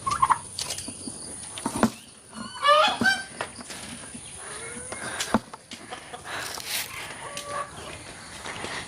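Backyard chickens in a home coop give rapid clucks and squawks at close range, with scattered bird calls and other yard noise around them.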